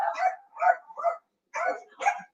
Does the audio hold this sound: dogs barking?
yes